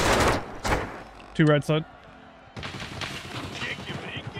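Gunshots in the shooter game Tarkov Arena: a few sharp reports at the start, then a burst of close fire, with a short spoken callout between shots and a steady game backdrop.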